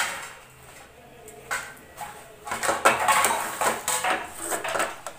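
A lid is set onto a pot of tomato curry to bring it to a boil, with several close metallic clanks and scrapes of cookware in the second half after a quiet start.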